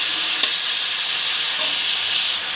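Chicken meat frying in a pan while being stirred, a steady close sizzle with faint scraping strokes running the whole time and no voices.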